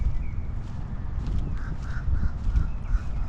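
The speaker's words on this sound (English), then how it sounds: "Listen to the birds." Birds call in Metropolitan Park in Jacksonville, Florida, near a dock, giving several short repeated cries over a steady low outdoor rumble, moderately distant and without talk.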